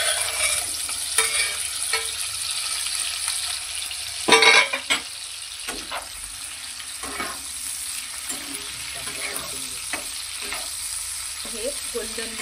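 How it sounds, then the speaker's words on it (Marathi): Paneer cubes fry in about two tablespoons of hot oil in a pan, a steady sizzle running throughout with occasional louder stirring clatters and spatters, no voices. "आपण हे पनीर यामध्ये तेलामध्ये फ्राय करून घेऊया"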